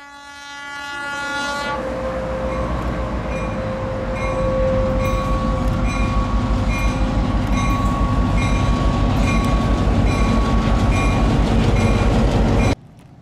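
An Arkansas and Midland short-line freight train, a Genesee & Wyoming road, rolls slowly past. The horn holds a sustained chord near the start, over a continuous heavy rumble and rattling wheel clatter that stays loud until it cuts off abruptly.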